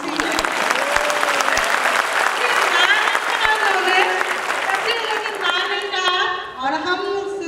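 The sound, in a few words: audience applause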